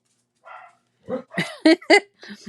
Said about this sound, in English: sounds like one of the neighbors' dogs